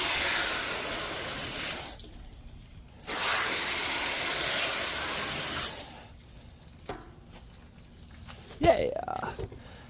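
A hose spray rinses the body of a 1979 Polaris Apollo snowmobile in long, loud hissing bursts that stop and start, followed by quieter dripping and a voice talking.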